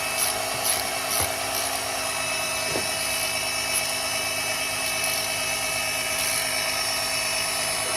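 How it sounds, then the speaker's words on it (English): A 27mm socket wrench ratchets to loosen a car's oil filter in a tight space, with faint clicks over a steady loud mechanical drone and hum that runs through the whole stretch, with no talk. "in order to get the oil filter, I have a 27mm socket wrench"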